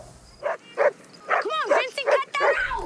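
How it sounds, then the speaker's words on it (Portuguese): A dog barks and yelps in an episode of the TV series LOST, several short sharp barks spaced across the moment, close and clear with a distressed whimpering edge. "o cachorro tá latindo agora."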